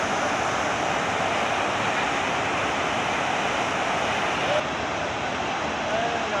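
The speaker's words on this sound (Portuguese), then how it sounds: "Observem como está a cachoeira. Encheu muito esse ano." A waterfall swollen by a major regional flood roars with rushing water in a dense, constant wash of noise that fills the whole stretch, loud and unbroken.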